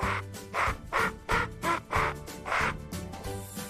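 A duck quacking in a series of about six loud, close, evenly spaced quacks, heard alone with no talking.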